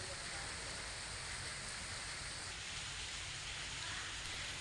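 Heavy monsoon rain pours in Gir-border villages of Amreli district, Gujarat, a continuous broadband hiss of downpour, distant and faint, steady for the whole stretch with no talking.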